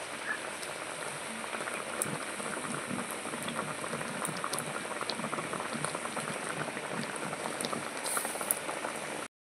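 Mango mixture cooking down with sugar for homemade mango drink, a dense continuous bubbling boil with fine popping and spattering, steady and close throughout without any voices.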